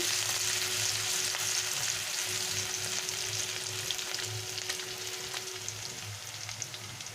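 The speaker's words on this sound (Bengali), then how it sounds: "রসুনটাকে আমি ভেজে নিয়েছি" Crushed garlic frying in mustard oil gives a steady, close crackling sizzle that holds through the whole stretch, with a faint low hum underneath and no talk.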